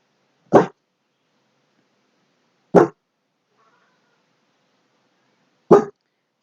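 An excited dog indoors gives three short, sharp barks spaced a few seconds apart, loud and close, with near silence between them.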